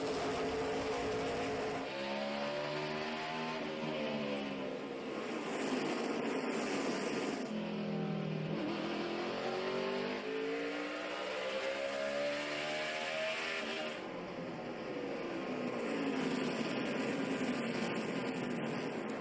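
NASCAR stock cars race for the lead at the 2012 Tums Fast Relief 500, engines roaring loud and continuous with rising and falling pitch as cars sweep past in a tight pack.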